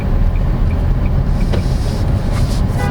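A 2024 Nissan Almera VL Turbo with a CVT pulls hard at full throttle, a steady loud engine drone and road rumble filling the cabin without a break.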